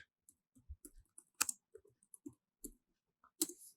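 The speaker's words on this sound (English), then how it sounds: "open command prompt and type flutter doctor" Keys tap on a computer keyboard as a short command is typed: a sparse, irregular series of quiet, close clicks with brief pauses between them.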